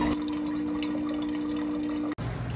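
Water runs steadily from a faucet or pump while morning coffee is being made, a continuous close liquid flow with a tonal hum that cuts off abruptly near the end, followed by a short quieter patch.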